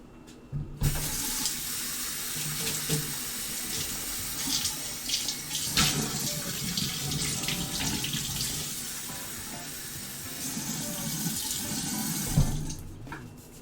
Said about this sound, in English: And water. How much water are we adding?